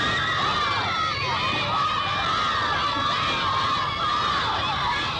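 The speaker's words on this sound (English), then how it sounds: "There are crowds everywhere they go." Crowds of excited Beatles fans: a dense, constant roar of shrieking and cheering voices, loud and unbroken throughout.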